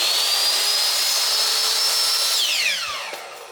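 A miter saw cuts through a small piece of wooden trim with a loud, close, steady high whine. Near the end the motor spins down and the pitch glides lower as the blade slows.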